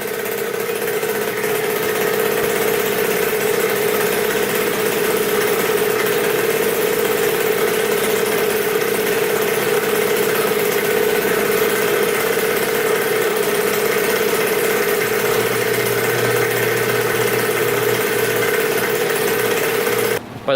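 A racing Mini two-stroke dirt bike engine idles steadily and loudly up close, holding an even, buzzing drone throughout with no throttle changes.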